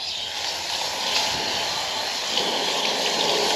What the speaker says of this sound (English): Now I'm going to stop and rinse this off so that none of this gets any more on here than it already is.